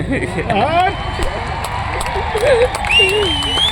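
A large gathering in an event hall with murmuring crowd noise and scattered background chatter, under someone speaking close up.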